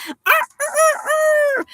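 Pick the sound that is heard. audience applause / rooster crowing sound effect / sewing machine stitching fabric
rooster crowing sound effect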